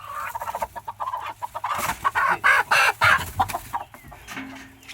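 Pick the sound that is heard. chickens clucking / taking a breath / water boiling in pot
chickens clucking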